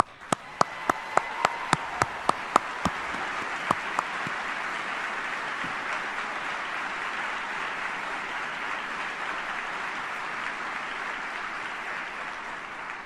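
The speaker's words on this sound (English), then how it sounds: "So thank you, Secretary Hicks, and you deserve another round of applause." Audience applause at a Department of Defense farewell tribute ceremony for Secretary Hicks: a few sharp, distinct claps at the start quickly swell into steady, full applause that holds strong and even for the rest of the stretch.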